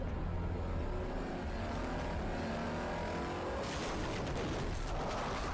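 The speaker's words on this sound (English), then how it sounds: "footage of the car driving over a sandbag" A car driving over a sandbag in a TV scene, a dense continuous roar of engine and road noise with a harsher burst partway through, loud and steady throughout.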